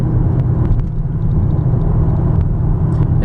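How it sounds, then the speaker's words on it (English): Deep, steady exhaust rumble from a 2010 Chevrolet Camaro SS with a 6.2-litre LS3 V8 and six-speed manual, loud and continuous at close range with no voices. "It's got rumble when you get on it, but when you're driving, the exhaust note is very comfortable"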